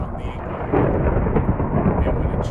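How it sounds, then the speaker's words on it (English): Thunderstorm thunder rumbling in a steady, loud low roll that fills the whole stretch, with a slight swell partway through and a rain-like hiss underneath. "Thanks, Thunderstorm."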